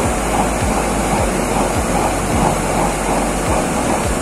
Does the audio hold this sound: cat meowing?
no